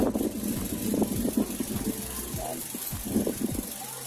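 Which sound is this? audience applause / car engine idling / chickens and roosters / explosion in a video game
car engine idling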